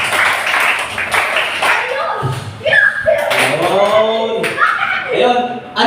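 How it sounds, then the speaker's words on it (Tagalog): Children at a church children's ministry session clap their hands together on cue, a burst of close, sharp claps mixed with giggles and excited chatter, followed by an adult voice talking. "3, palakpak!"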